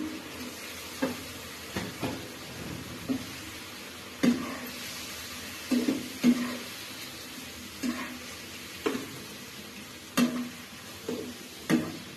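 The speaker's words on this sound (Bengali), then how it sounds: "এখন এর ভিতরে আমার মশলাটা কষানো হবে এবং এর ভিতরে আমি পাবদা মাছ রাখছি" Pabda fish fry in a spice paste with a low, quiet, continuous sizzle. Gentle spatula taps and scrapes recur irregularly every second or so.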